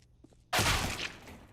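Rifle fire in a Counter-Strike professional match, a sudden loud burst after a near-quiet lead-in, fading off over about a second with no talk over it.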